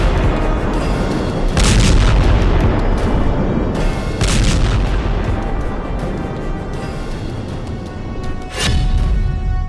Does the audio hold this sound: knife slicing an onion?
no